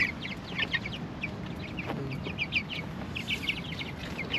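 Backyard chickens cluck in quick, repeated bursts close to the microphone, a busy scatter of short calls over a low background hum.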